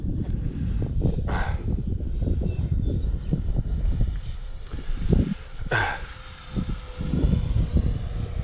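A Freewing AL-37 Motion RC airliner model flying outdoors, its electric ducted-fan whine rising and passing amid steady wind rumble, moderately loud and continuous with no clear talking.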